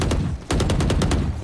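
A sentry turret in a shooter game fires a rapid burst of loud, close, evenly spaced shots, pauses briefly, then resumes a steady rattling volley.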